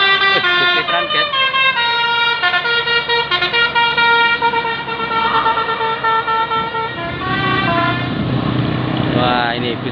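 Indonesian buses sound telolet musical horns at the legendary Bokong Semar bend, loud rising and falling multi-tone melodies repeating in bursts over engine rumble, with a passing bus roaring near the end.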